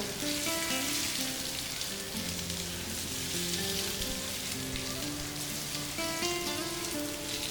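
Fried potatoes and pointed gourd with garam masala being stir-fried in a pan, a dense, even sizzle like rain on a surface running throughout, with faint tonal background music underneath.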